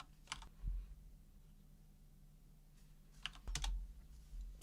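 Password keystrokes on a computer keyboard while logging in to a Raspberry Pi 4 running OpenMediaVault 5: two short, quiet bursts of clicky taps separated by a long pause.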